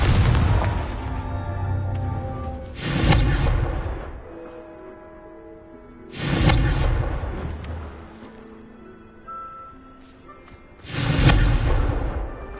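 Three fiery Confringo spell blasts go off in Hogwarts Legacy, each a loud, broad whooshing burst with a booming impact spaced several seconds apart, with quieter magical ringing tones between them.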